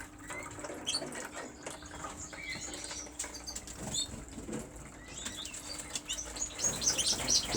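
Spare cock birds in a loft flutter and flap their wings in scattered bursts, with soft chirps and shuffling, fairly faint and close, the flapping growing busier near the end.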